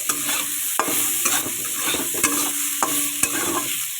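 Shrimp frying in a pan with potatoes, greens and cumin, with steady close sizzling and sharp clicks of a utensil stirring and scraping through the whole stretch.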